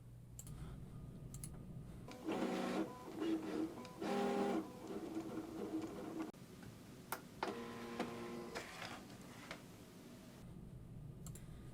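A Loklik iCraft cutting machine cuts heat-transfer vinyl, giving steady mechanical whirring and clicking with louder tonal motor bursts as the carriage moves, continuous and close without any talk.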